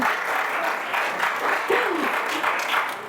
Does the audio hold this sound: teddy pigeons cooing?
no